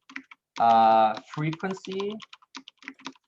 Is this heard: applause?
no